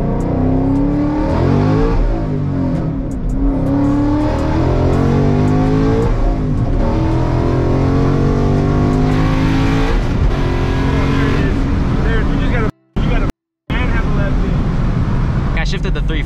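A Cobra car engine revs hard and loud through gear changes, with a fast 3-4 shift, rising and falling repeatedly, with a brief cut-out near the end and some talking over it.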